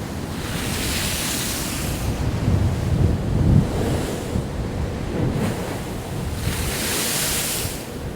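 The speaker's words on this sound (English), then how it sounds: "she's starting to get a bit angry now, the old sea, isn't she?" Rough sea waves surge and break against a promenade at Upgang near Sandsend before a storm, a continuous loud rushing roar with swelling crashes and heavy wind buffeting the microphone.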